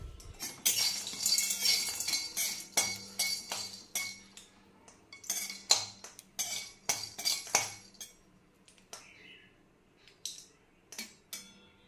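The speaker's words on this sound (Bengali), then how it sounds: "এবার এই গোটা মশলাগুলোকে, গোটা গরম মশলাগুলোকে সব দিয়ে দেবো" Whole garam masala spices stirred with a metal spoon in a hot kadai for a chicken chaap recipe, giving repeated close, bright clinks and scrapes in an irregular rhythm with brief pauses.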